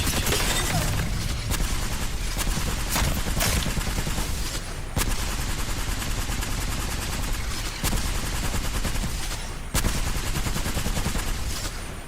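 Dense, continuous automatic fire from the L-Star energy light machine gun in Apex Legends, a loud stream of rapid shots with a few sharp cracks standing out, running steadily for the whole stretch with no talk.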